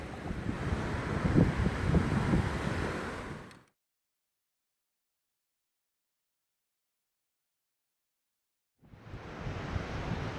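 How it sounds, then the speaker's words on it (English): Waves and wind on Malibu Beach, New Jersey, make a rough, steady roar of surf and microphone buffeting. It breaks off into a long stretch of silence, then returns near the end. "today we are on Malibu Beach"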